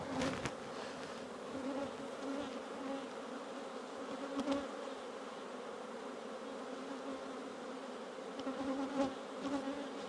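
Honey bees buzzing steadily while being shaken into a box to make nucs and splits, a dense continuous drone of many insects, close and unbroken, with a few brief louder bursts and no voices.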